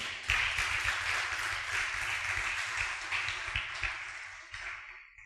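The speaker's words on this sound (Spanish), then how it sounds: "damos un aplauso al Señor." A church congregation applauds the Lord during a sermon, producing continuous clapping from many hands with scattered sharper claps, fairly close, tapering off at the end.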